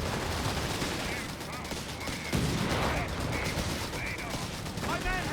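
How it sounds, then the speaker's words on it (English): Gunfire in a Company of Heroes 3 battle between Afrika Korps and British forces: continuous, dense crackling rifle and machine-gun fire with a sharper burst midway, loud and steady throughout. "Shooting."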